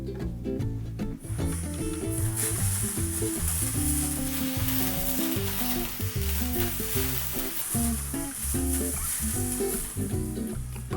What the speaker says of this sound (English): sizzling oil is hot